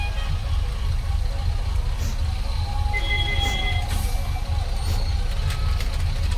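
A truck rumbles in close with a steady low engine drone, joined midway by faint high reversing beeps, while voices talk nearby.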